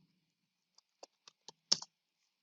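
Several light keystrokes on a computer keyboard as text is typed, five or six distinct taps spaced irregularly in a quiet room, the last two closer together and slightly louder.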